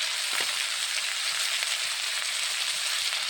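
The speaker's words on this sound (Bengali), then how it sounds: "মশলাটা লাল করে ভেজে দেবো" Spice paste with salt and turmeric sizzles steadily in a wok, a dense, even frying hiss at close range with no talk.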